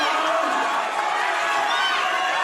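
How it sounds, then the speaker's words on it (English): A boxing crowd in the closing 30 seconds of a bout, a dense roar of cheering and shouting that holds steady and loud with no breaks. "Crowd is amping up"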